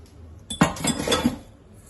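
Short, close clinking of a metal pot and dishes in a home kitchen while rinse water is drained from rice, a brief cluster of clatters lasting about a second.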